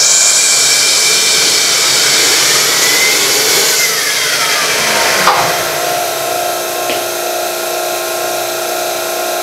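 A remanufactured diesel turbocharger on a test rig winds up to tens of thousands of RPM, a loud steady whine with a rising sweep that drops sharply midway and then settles into a sustained high-pitched hum.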